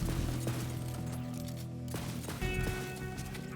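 The Unkempt Harold, a ×4 shock-element variant used by Zane in Borderlands 3, fires a rapid string of crackling shots, loud and close, with a brief lull before more bursts and fizzing impacts.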